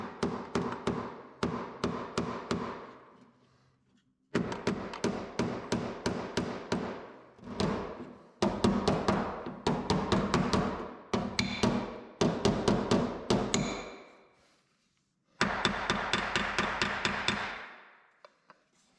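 Hammer and dolly strike a car door panel during bodywork shaping, firing rapid bursts of sharp metallic taps in several quick series separated by short pauses, close and fairly loud.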